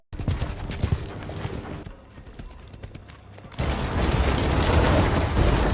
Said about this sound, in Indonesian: Snow White terus memacu kudanya.